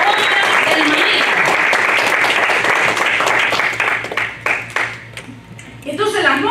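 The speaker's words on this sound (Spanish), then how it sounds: "Alguien debió haber dado un aplauso ahí." An audience at a Spanish-language sermon breaks into dense, loud applause that holds steady for several seconds, then thins into scattered claps and fades before a voice returns.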